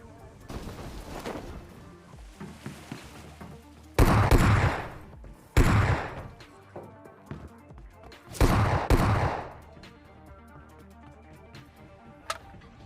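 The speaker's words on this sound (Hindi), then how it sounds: "और देखना भाई शुरू में S12 के से कैसे फोड़ेंगे" An S12K shotgun fires in the mobile battle-royale game PUBG Mobile: a few loud booming blasts ring out a second or two apart, mixed with fainter distant shots and game noise between them.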